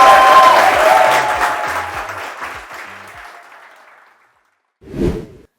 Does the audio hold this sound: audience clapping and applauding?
yes